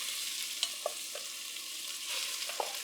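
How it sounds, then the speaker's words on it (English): Ground turkey browns in about three tablespoons of oil in a pan for turkey chili, giving a steady, moderately quiet sizzle broken by a few soft clicks and scrapes from stirring. "You want to brown your turkey nicely."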